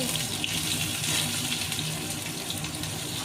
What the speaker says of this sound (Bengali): পেঁয়াজটা নাড়াচাড়া করে কিছুক্ষণ ভেজে নিয়েছি